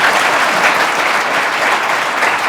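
Loud, dense applause from an audience at a coaching-class event celebrating a student selected for the NDA, steady and sustained with no pauses, filling the room.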